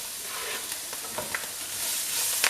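Chopped onion frying in a pan with curry leaves for couscous upma, a steady soft sizzle with a few faint stirring scrapes and clicks, close and without talk.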